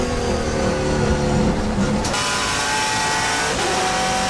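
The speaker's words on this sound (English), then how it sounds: "I love the sound of these cars, so I'm filming from turn 5" TA2 race car engines roar loudly as the cars speed past turn 5 at Road America, with a sharp change in engine pitch partway through and no talking.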